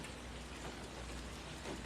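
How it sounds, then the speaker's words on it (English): Rain falling outdoors, a faint, steady hiss of drops pattering on surfaces without any speech. "It is raining."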